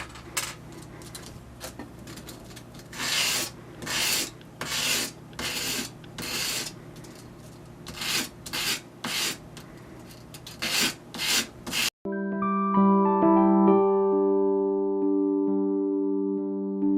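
A wooden ring is hand-sanded with 150 grit sandpaper, giving repeated bursts of dry rubbing and rasping in an uneven rhythm for about twelve seconds, after which the scratching stops and a sustained tonal hum takes over.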